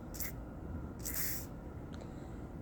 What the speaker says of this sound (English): try some of this heavy-duty silicone waterproofing. You simply spray this on